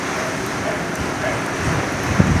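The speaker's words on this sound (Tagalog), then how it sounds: "At ito yung pagbulusok ng hangin." Strong wind from Typhoon Uwan buffets a microphone outside a house in Biñan, Laguna, a loud, continuous roar with slight swells and a small gust near the end.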